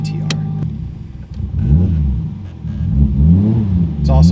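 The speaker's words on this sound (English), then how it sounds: "Today, we're going for a drive in an 800 horsepower R34, not GTR." An 800-horsepower Nissan R34 Skyline (non-GTR) with throttle-by-wire revs loudly up close, its engine note rising and falling in several surges across the clip.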